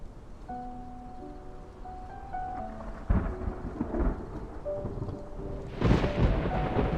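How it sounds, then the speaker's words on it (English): Rain and rolling thunder in the Love and Deepspace video game, with steady rainfall under a tonal game score and two heavy thunder rumbles, the second loudest near the end; no voices. "It's raining! Let's head inside."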